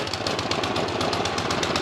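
A Troy Bilt two-stage snow blower engine warming up on choke, running loud and steady with a rapid, even pulsing chatter and no voices over it.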